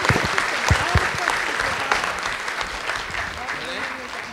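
Audience applause for a political discussion panel at the close of a Q&A session, a dense steady roomful of clapping that fades slightly toward the end.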